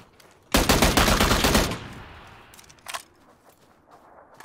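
A loud burst of automatic gunfire in the battle royale game PUBG lasts about a second, then fades into a lingering tail, with a brief sharp report shortly after.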